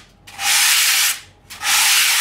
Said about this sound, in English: we need to use the supplied sandpaper to gently clean the dust off.